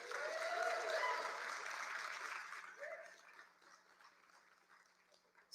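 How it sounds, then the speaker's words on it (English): Applause from a rally audience at a congressional campaign event, a dense wash of clapping that starts fairly loud and thins out, fading and sparser toward the end, with faint voices mixed in. "Please give Patrick a warm round of applause."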